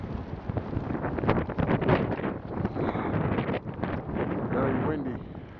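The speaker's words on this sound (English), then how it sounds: "Very windy." Strong wind blows outdoors during a snowstorm, gusting against the microphone in a continuous rushing roar that rises and falls, with someone talking over it.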